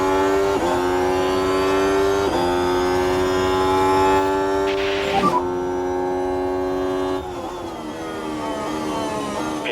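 Formula 1 cars in F1 Manager 24 accelerating away at a race restart, high-pitched engine whine climbing through repeated gear changes, steady and loud with no talking.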